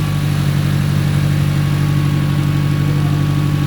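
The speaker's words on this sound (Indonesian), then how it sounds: "bunyinya masih bagus, tidak ada suara-suara mesin yang berisik." A car engine idling smoothly, a steady low rumble that stays constant and close throughout.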